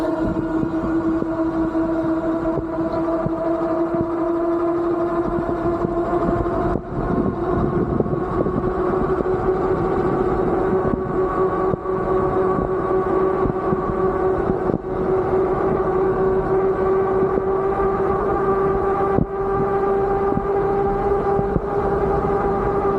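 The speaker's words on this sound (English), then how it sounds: "Let's go test out the max speed on throttle only while we're at it." Engwe E26 48V all-terrain fat tire e-bike ridden at top speed on throttle alone, giving a steady rising motor whine over continuous wind and road rumble, loud and close throughout with no talking.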